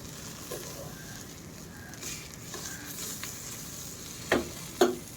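Pointed gourd and prawn paste sizzle and fry steadily in a wok, with soft stirring scrapes and two sharper clinks of a utensil near the end.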